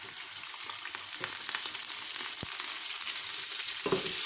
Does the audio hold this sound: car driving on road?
no